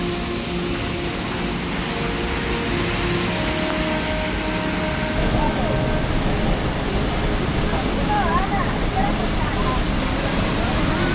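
A waterfall near La Fortuna, Costa Rica, pours with a steady, full roar of rushing water that fills the whole stretch without a break.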